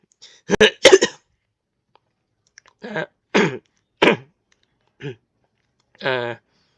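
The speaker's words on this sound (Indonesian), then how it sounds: "agak batuk ini" A few short coughs and throat-clearing bursts, close and fairly loud, spaced out with pauses between them.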